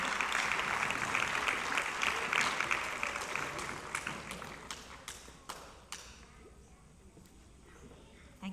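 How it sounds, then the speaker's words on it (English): Applause for fifth-grade students at a school graduation ceremony: a crowd claps steadily, then the clapping thins out into scattered individual claps before fading away. "Let's give them a round of applause."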